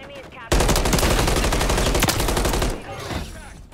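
Gunfire in Call of Duty MW3 on the Highrise map, a loud sustained burst of rapid automatic fire lasting about two seconds, then fading quickly, up close.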